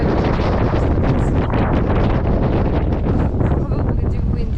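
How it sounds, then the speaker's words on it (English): Strong wind in the mountains of Montenegro roars steadily into the microphone, a loud, unbroken buffeting rush with no pauses. "Probably too windy to go anywhere."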